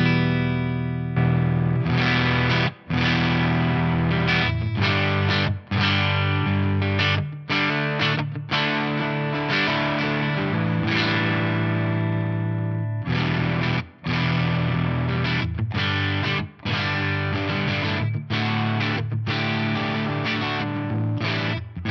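Clean electric guitar played through a Crazy Tube Circuits Hi Power pedal in bypass, chords ringing out steadily with brief gaps between strums, loud and alone with no talking.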